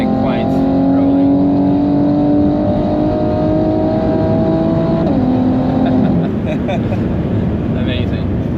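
A 700hp BMW X3 M with exhaust valves closed, driven at the Nürburgring, gives a loud steady engine drone with one shift in pitch midway, under ongoing talk inside the cabin.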